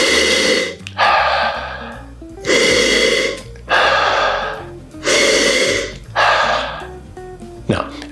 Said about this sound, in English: we need to sniff hard enough that we get a good gust of air up our nose